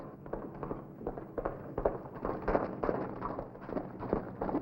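A gunshot cracks out in a western radio drama, with short sharp bangs among a scatter of rough bursts, all faint and brief with no voices.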